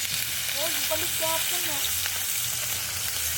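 Onion frying in cooking oil in a rural home kitchen makes a continuous crackling sizzle, with a voice briefly talking over it near the start.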